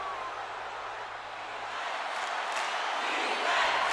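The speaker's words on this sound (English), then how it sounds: "Crowd on their feet." A football stadium crowd roars after a defensive sack, a dense sustained wall of cheering that swells slightly louder toward the end, with no clear single voices standing out.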